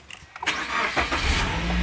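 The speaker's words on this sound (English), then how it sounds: "Start the engine, please." A Suzuki Grand Vitara engine cranks with a few quick stutters, then catches and settles into a steady idle rumble.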